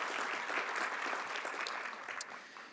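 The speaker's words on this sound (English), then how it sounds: "that deserves a round of applause" Steady applause from a tech summit audience, dense clapping that holds at an even level for a few seconds before tapering slightly.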